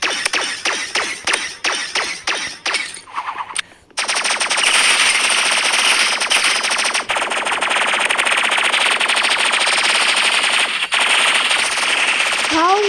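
Energy rifle gunfire in the Marvel Rivals video game: a quick series of separate shots at first, then a brief gap, then a long, loud, unbroken burst of rapid fire up close.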